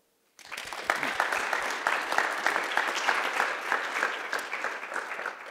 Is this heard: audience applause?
yes